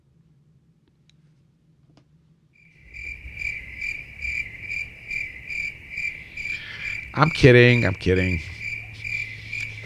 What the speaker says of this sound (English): Yeah, go away, crickets.